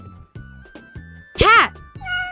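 A cat gives one loud, rising and falling meow between stretches of speech.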